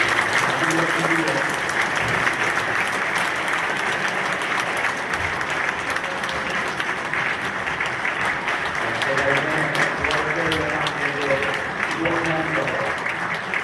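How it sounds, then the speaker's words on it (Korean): Congregation applause at an Easter union worship service greets a children's choir, steady dense clapping from a large crowd sustained throughout, with faint voices and some singing underneath. "여러분 박수로 한번 이렇게 반갑습니다."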